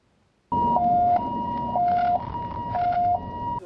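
Ambulance siren wails in a repeating two-tone hi-lo pattern, starting abruptly and sounding loud and close for about three seconds.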